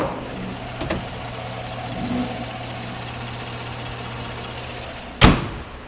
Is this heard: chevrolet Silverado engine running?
yes